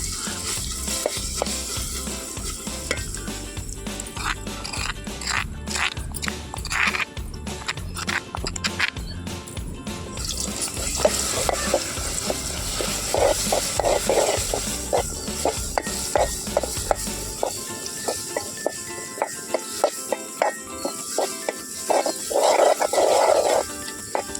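Ground dried red chili and tamarind chutney is stirred into a hot tempering with curry leaves in a pan, producing loud sizzling and frying with scraping stir strokes, the hiss fading to quieter stirring toward the end.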